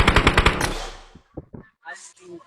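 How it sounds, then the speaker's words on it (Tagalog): Rapid automatic gunfire in a video game, a loud burst of about seven close shots followed by scattered fainter shots, with speech briefly in the background. "Di ako may bumabaril sa akin dun."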